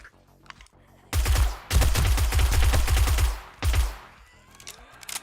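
Bursts of rapid automatic gunfire in a video game, loud and close, with a short volley, a longer sustained stream, then another brief burst before it falls quiet.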